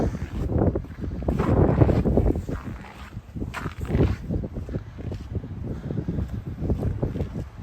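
Gusty wind buffeting the microphone near a building during an extreme cold warning in Regina, a loud continuous rumbling roar that surges and eases in waves throughout.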